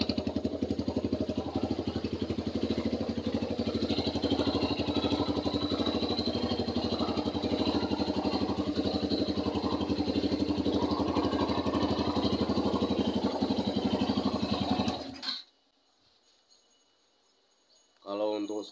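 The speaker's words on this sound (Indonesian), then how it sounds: "Suara mesin berisik wajar, motor tua." An old Suzuki Thunder motorcycle engine with a PE 28 carburetor idles close by with a steady, noisy, clattering putter, then cuts out abruptly near the end, leaving brief silence before a short noise.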